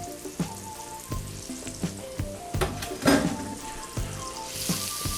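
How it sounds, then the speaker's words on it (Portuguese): Finely chopped onion sizzles and browns in a pan for an asparagus risotto, a steady close frying crackle broken by regular stirring clinks and scrapes, with no talking over it. "Vamos dourar e suar essa cebola."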